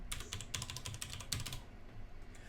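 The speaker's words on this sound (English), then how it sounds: "type in my password" A password is typed on a computer keyboard, a quick run of close, crisp key clicks in bursts that trail off into a quieter pause near the end, with no talk.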